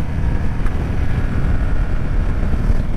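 Rough, low wind rumble buffets the microphone as a Yamaha Ténéré motorcycle rushes by. The noise is steady and fairly loud.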